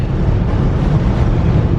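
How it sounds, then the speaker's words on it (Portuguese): Steady, roaring wind buffeting the microphone, a loud continuous low rumble with no letup and no voices. "Agora o vento aqui é um negócio louco"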